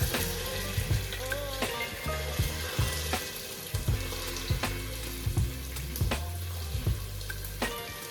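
Tomato goes into a frying pot for Nigerian jollof rice, giving a steady loud sizzle with repeated stirring scrapes and clatters throughout, no talk.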